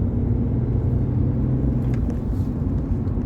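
A car moves off gently from a green light during a driving lesson near the Dome roundabout in Watford, a steady low engine rumble and road noise with no talk.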